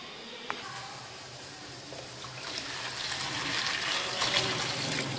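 Water runs and splashes steadily as bitter gourds are rinsed and rubbed under it, growing a little louder and busier toward the end.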